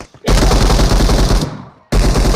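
Rapid bursts of gunfire in a shooter video game involving a pump shotgun, loud and close, one long rattling burst that fades, then a second burst starting abruptly.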